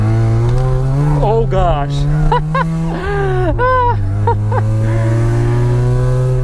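Mazda RX7 with a welded differential sliding sideways through a U-turn, its engine note droning steadily up close while a person exclaims and talks over it.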